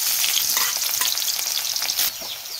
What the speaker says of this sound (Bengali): দিয়ে দিচ্ছি কড়াইয়ে সর্ষের তেল, দিয়ে দিচ্ছি 2টো শুকনো লঙ্কা, তেলের মধ্যে দিয়ে দিচ্ছি পেঁয়াজগুলো